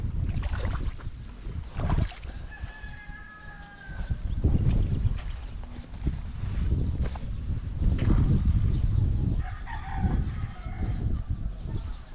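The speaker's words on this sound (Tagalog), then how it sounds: "Yun po, wild duck." Wild duck honking a few times near a vegetable plot of pechay greens, the calls fairly clear over steady wind and outdoor rumble.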